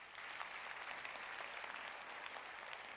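A church congregation applauds during a sermon, a dense, steady wash of clapping from many hands that holds evenly for the whole stretch without pause, heard at a distance with no voices over it.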